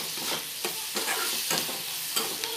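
Capsicum and tomato fry in a pan for spicy masala Maggi noodles, with rhythmic stirring strokes scraping through a steady, close sizzle; no voices.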